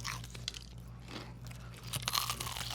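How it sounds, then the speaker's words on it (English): Bites of Korean fried chicken give dry, crisp crunches and chewing close up, quiet, with a faint background hum. "heard that crunch from you, Phil"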